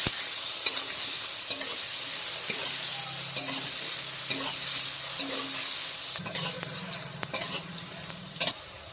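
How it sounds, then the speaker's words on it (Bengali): Brinjal frying in oil with salt and turmeric, stirred in the pan: a steady close sizzle runs throughout, broken by scraping stirs and a louder clatter near the end, with no talking. "অল্প একটু নুন, অল্প একটু হলুদ দিয়ে ভালো করে একটু বেগুনটা ভেজে নেব"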